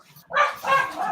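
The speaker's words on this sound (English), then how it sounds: "I hear you barking." A dog gives two quick barks, close and fairly loud, in about a second.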